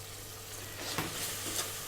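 A roux of melted margarine and flour cooks over low heat in a saucepan, giving a soft, steady sizzle with a couple of faint stirring scrapes, close and quiet with no voices.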